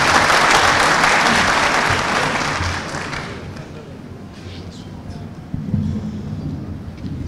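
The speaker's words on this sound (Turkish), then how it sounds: "Alkışlıyoruz." Loud crowd applause at a political party's provincial congress in Elazığ, Turkey, for about three seconds, then fading into a murmuring room with scattered thuds.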